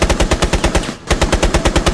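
Rapid automatic gunfire in the video game Rainbow Six Siege, a loud, close burst of evenly spaced shots that breaks off briefly and then resumes.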